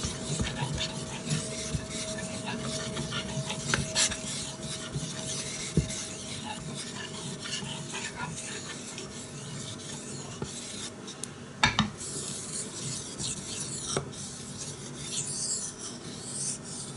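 A hatchet blade is sharpened and polished on a stone, producing steady rasping strokes that rub back and forth continuously, with occasional sharper scrapes, close and moderately loud.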